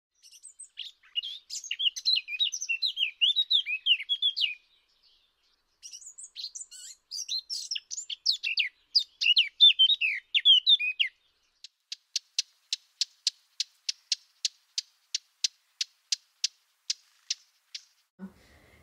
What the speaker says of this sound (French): La fauvette à tête noire.